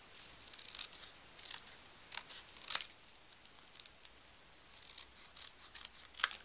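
Scissors snip around the edge of a cardstock border in a quick series of short, crisp cuts, close and fairly quiet, with no talking.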